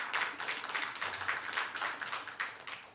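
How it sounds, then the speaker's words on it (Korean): A church congregation at a Christmas Day Sunday morning service applauds together in warm, even waves of clapping, moderately distant and uninterrupted by talk. "우리 임명되신 분들 주의 일 잘 하시도록 다 같이 박수로서 격려해 주시기"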